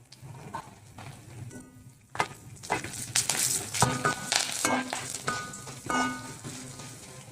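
Curry leaves and two dried chilies sautéed in a pan: a soft sizzle with spatula scrapes and clinks that thicken partway through, faint overall and accompanied by quiet background music.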